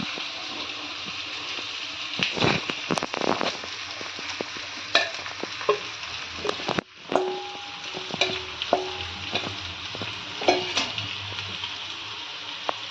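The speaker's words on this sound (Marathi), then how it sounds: "मिरची आणि शेंगदाणे तेलात भाजून घेते चांगली." Sago pearls frying and being stirred in oil with chilies and peanuts in a pan, a steady sizzle broken by repeated scraping and clattering stir strokes, close and alone without talk.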